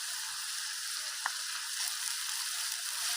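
Onion paste and salt frying in mustard oil with a bay leaf and chilli, a soft continuous hiss with one faint tap of a utensil, no voices.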